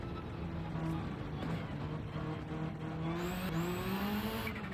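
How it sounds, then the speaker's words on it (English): Engine of a 788-horsepower rally car on a dirt road in Gran Turismo 7, droning at high revs with slowly rising pitch, its sound faint and steady against gravelly road noise. "788 horsepower rally car versus dirt road."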